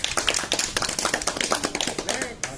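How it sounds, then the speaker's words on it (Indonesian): Short burst of hand clapping from a basic life support session in a swimming course, a small group's uneven claps running continuously and fairly close with voices mixed in. "Tepuk tangan dulu."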